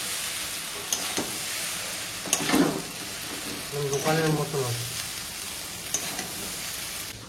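Soy sauce sauce stir-fried in a wok at home, loud continuous hissing sizzle with scraping stirs throughout, while a person talks over it partway.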